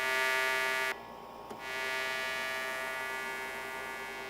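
A sustained buzzy synth pad plays dry without ring-shift or tremolo effects, a steady bright droning tone with dense stacked harmonics that briefly cuts to a thinner sound and then returns, even and unbroken, with no voices.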